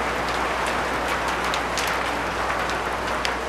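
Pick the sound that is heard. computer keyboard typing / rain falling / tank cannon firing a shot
rain falling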